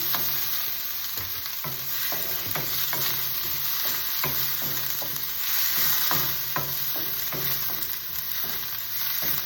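Chopped garlic and onion fry in a hot pan with a constant bright sizzle, while a utensil stirs and taps the pan at irregular intervals, close up and with no one talking.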